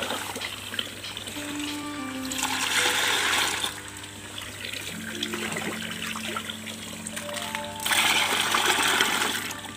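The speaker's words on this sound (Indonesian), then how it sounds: "Jadi caranya supaya cepat dingin ya, tinggal tuang di wadah, kemudian ambilkan air yang ada di kolam." Pond water poured into a container to activate biofloc probiotics, a steady splashing gush swelling and easing in waves, loudest near the middle and again toward the end, with no talking.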